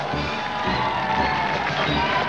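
A large crowd cheers and applauds at a public moment during a civil war, a dense, steady roar of voices and clapping heard from a distance without pause.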